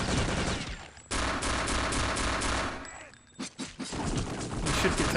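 Rapid automatic gunfire rattles through a Return to Castle Wolfenstein match, long loud bursts separated by short pauses and a few scattered single shots.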